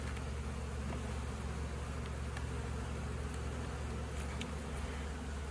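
A dense, steady swarm of honeybees buzzes from inside a bee package, a loud continuous drone close to the ear with no voices.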